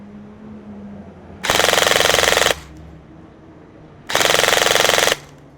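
A G&G SSG-1 airsoft AEG on full auto with an 11.1 battery fires two sustained bursts of about a second each, a rapid buzzing rattle with a quiet pause between them.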